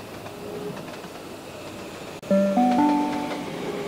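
Simulated train pulling into platform 7 at Blacktown station in the Trainz 12 game, a steady rolling rumble followed midway by a brief cut and then loud, sustained tonal notes.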